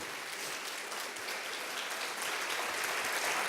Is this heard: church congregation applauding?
yes